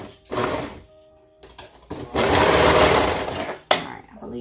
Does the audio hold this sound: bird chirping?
no